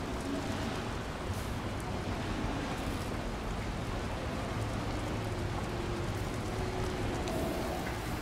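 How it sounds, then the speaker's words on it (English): Heavy rain pours steadily in the video game Nobody Wants To Die, a dense, constant wash of falling water with a faint low hum beneath, with no talk over it. "How can it even rain this much if,"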